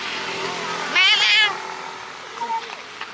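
A mother cat meows once, a short clear cry in the middle while she eats, over quiet background noise and a faint engine hum.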